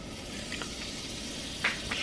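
Butter hitting a very hot frying pan while chicken breast cooks, giving a steady low sizzle throughout with a couple of brief louder crackling bursts near the end; no talking.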